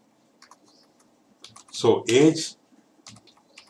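Computer keyboard typing while an app name is entered in a kids' coding lesson: light, scattered key clicks before and after a brief spoken word, fairly quiet and close.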